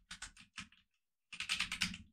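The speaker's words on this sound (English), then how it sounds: "So let's start typing here category" Keys clatter on a computer keyboard while a search word is typed into Tableau software: a few quick close taps, a brief pause, then a denser burst of rapid keystrokes in a quiet room.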